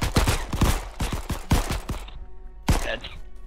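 Rapid gunfire in the video game Crab Game, a volley of sharp close shots in quick succession followed by a pause and one more loud blast.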